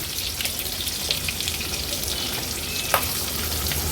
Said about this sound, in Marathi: दहा ते बारा काजू घेतलेत आणि दोन हिरव्या मिरच्या अगदी चिरून घेतल्या आहेत ते आपण तेलावर आपण परतून घेऊया